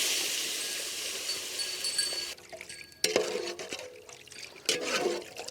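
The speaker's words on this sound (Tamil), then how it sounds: "தண்ணி சேர்த்துக்கலாம்." Water goes into a cooking pot of masala and chopped mushrooms for tomato egg soup in a village kitchen, a hissing sizzle giving way to splashing, clinking and sloshing liquid, with no one talking.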